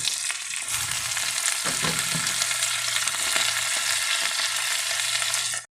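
Spinach tossed into a hot pan with carrots, frying with a loud steady sizzle up close while a utensil stirs through it, a few scraping knocks rising over the hiss.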